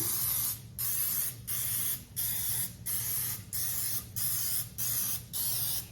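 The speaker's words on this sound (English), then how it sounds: "We of course want to spray our muffin tin." Short hissing bursts of cooking spray onto a muffin tin, about eight in a row with brief gaps between them, close and clear over a low background hum.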